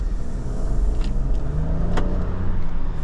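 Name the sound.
2024 Nissan Rogue turbo three-cylinder accelerating under medium throttle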